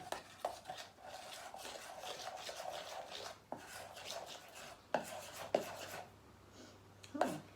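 Homemade DIY face paint being mixed with a spoon in a small dish, quiet scraping and stirring with sharp clicks and taps against the container.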